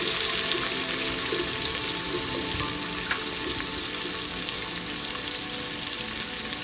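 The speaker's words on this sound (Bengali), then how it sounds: "এখন আমি ওয়েট করব পেঁয়াজটা কিছুটা ফ্রাই করে নেব" A cup of sliced onions frying in a pan for chicken bhuna gives a steady, loud, close sizzle that runs unbroken the whole time, with no voices.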